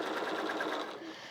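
A domestic sewing machine quilting runs in a fast, steady stitching rhythm, close and continuous for a moment, then eases slightly toward the end.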